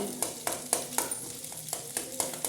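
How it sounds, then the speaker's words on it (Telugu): A spoon stirs onions frying in a pan, scraping in quick regular strokes about every quarter second over a faint sizzle; nearby and fairly quiet. "ఇలా కలుపుతూ ఉండాలి"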